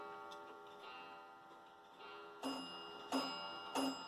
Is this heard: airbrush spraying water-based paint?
no